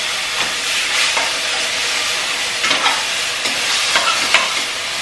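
A spice masala is sautéed in a pan until it dries down, giving a loud, close, continuous sizzle and hiss broken by repeated scraping strokes of a spatula, with no voices.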